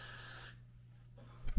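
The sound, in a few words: Got To Be hair spray being sprayed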